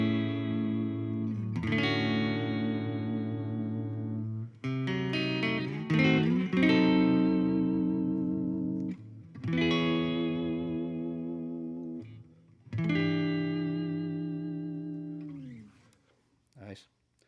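Gretsch G5655TG electric guitar played on its neck pickup, with sustained chords and single notes ringing out through effects, pausing briefly between phrases, close and clear with no talking.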